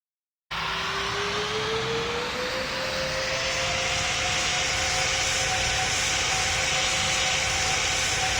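An Airbus A350 jet airliner engine starts after a brief silence and then holds a loud, steady roar with a rising whine that climbs and levels off, continuing to the end.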